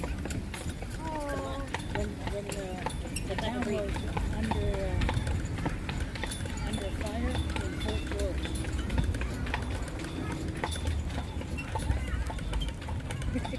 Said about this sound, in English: You're scared of the horse?